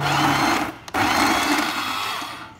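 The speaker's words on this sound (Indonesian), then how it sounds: "Nah, ini kita giling dengan ukuran yang ukuran medium" A coffee grinder grinds beans to a medium size for a moka pot, giving a loud, steady close-up whir with one brief dip partway through that fades slightly toward the end.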